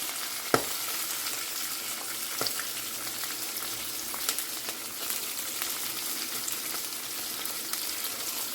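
Green chilli and onion go into peanuts frying in oil in a pan, giving a steady close sizzle throughout with a few sharp clicks and pops near the start and scattered later.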